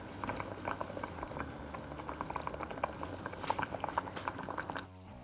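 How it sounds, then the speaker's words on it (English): Pure maple syrup boils in a pot for maple taffy, with a dense, continuous bubbling and popping that stays close and steady for about five seconds before cutting off abruptly. "pour some pure maple syrup into a pot and bring it to a boil."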